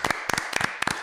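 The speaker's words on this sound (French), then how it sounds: "On peut l'applaudir également." An audience applauds for Edson, a few close hands clapping in quick sharp pairs and short bursts, loud and dry, with no talk.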